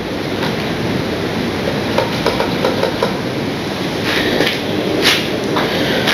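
A model Flying Scotsman locomotive runs on a home model railway layout, producing a soft continuous rolling rumble with light rhythmic clicks and rattles of wheels over track joints, close by and alone without speech.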